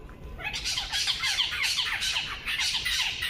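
Bird squawking repeatedly in a rapid, harsh series of calls, fairly close and moderately loud, outdoors at night in a public area, no talking.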